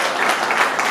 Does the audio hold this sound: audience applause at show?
yes